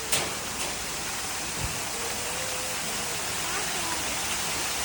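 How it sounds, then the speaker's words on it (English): A small indoor waterfall inside the rainforest-themed terminal at Kuala Lumpur International Airport gives off a constant rushing wash of water, with faint voices and hall ambience around it. "They got another little waterfall over this side."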